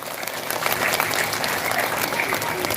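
Audience at an Islamic religious gathering with a female preacher claps together in a steady, dense wash of applause, fairly close and sustained throughout, with faint voices underneath.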